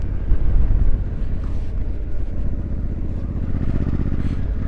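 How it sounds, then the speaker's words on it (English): A Honda Africa Twin motorcycle with an aftermarket FUEL exhaust rumbles deep and loud at steady speed, a throaty exhaust drone mixed with wind buffeting, no talking. "riding a motorbike with an amazing sounding exhaust that's not too loud"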